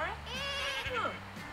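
A goat or sheep in The Sims 4 horse ranch game gives a short, wavering bleat that rises and falls over soft game background sound.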